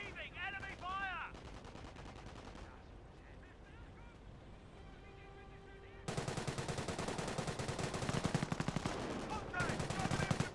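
Rapid machine-gun bursts and rifle fire in a Company of Heroes battle, distant at first, then loud sustained rattling volleys with voices calling out over the fighting.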